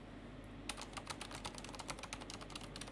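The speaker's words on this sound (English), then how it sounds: "I'm now typing in addition to the computer's fans being at maximum RPM" Quick, clicky typing on a computer keyboard over a steady, faint whoosh of computer fans running at maximum speed, the keystrokes starting after a short pause and continuing rapidly.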